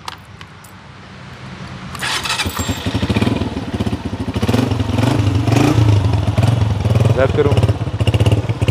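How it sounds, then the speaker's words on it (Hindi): A Honda CG125 motorcycle engine starts up and settles into a loud, steady rumbling idle with some mechanical clatter, close by. "मैं अपना भी बाइक जो है वो स्टार्ट कर लेता हूँ।"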